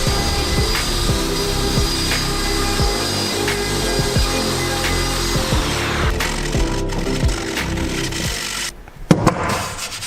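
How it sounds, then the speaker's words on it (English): A router cuts holes in a wooden board for a garage window shelf, a loud continuous high whine with rhythmic grinding pulses, easing off near the end followed by a brief knock. "I'm gonna go ahead and route these holes out so I can get this board in place"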